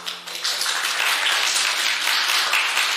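Concert audience applauding a performer at his anniversary concert: steady, dense clapping from a full hall, continuous and moderately loud throughout.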